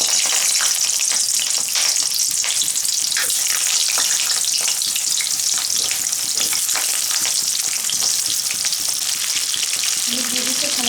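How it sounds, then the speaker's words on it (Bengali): Pointed gourd frying in hot mustard oil in a kadai, a dense continuous crackling sizzle close up with occasional stirring, no talk. "তেল গরম হয়ে আসছে, এখন আমি পটলগুলো দিয়ে দেব।"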